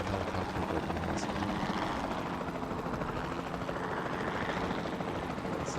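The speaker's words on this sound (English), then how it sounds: "I'm moving the helicopter with the mouse." Helicopter in the video game Jurassic World Evolution 2, a continuous rotor and engine drone held at a steady level throughout, with no voices over it.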